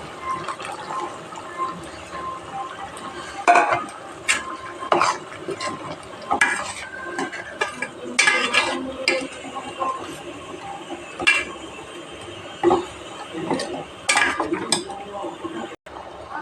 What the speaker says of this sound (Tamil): இப்போ நம்ம தேங்காய் விழுது சேர்த்திக்கலாம்.